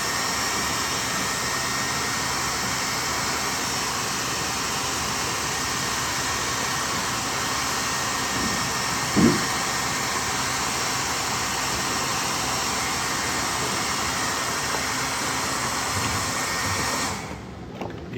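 Heat gun blowing steadily while warming motocross number plate graphics on a 2018 Suzuki RMZ250, a constant close whooshing hum for most of the stretch, with a brief bump midway, cutting off just before the end.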